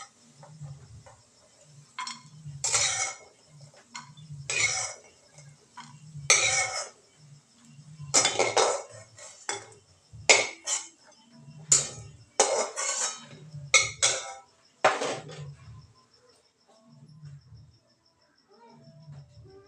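Clinks and scrapes of a utensil against a metal pan (kadhai), in irregular bursts, as browned fried nuts are scooped out into a dish; no talking.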